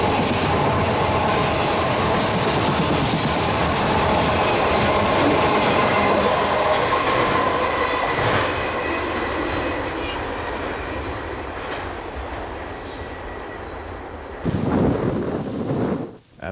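Freight train of empty autoracks rolling past close by, a loud continuous rumble and clatter with squealing wheels that fades as the cars move on, followed by a brief gust of noise.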